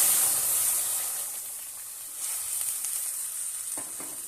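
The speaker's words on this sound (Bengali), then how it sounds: "এবারে সিদ্ধ করে রাখা সবজিগুলোকে দিয়ে দেবো" Boiled vegetables drop into hot tempering oil with bay leaf and dried and green chillies, setting off a loud, close hissing sizzle that gradually settles into a softer frying hiss with a few stirring knocks.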